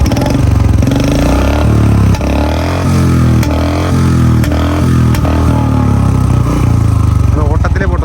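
A modified Royal Enfield Standard 350 Bullet motorcycle engine runs close by with a steady, loud, thumping low rumble and rough mechanical vibration. Its pitch shifts slightly as it is revved, and it continues unbroken for the full length.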